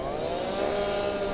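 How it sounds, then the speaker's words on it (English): Chainsaw cutting ice packed around a stuck truck on a winter highway, a steady continuous buzzing drone running at a constant pitch throughout, fairly close and alone with no voices. "has to break out the chainsaw once again."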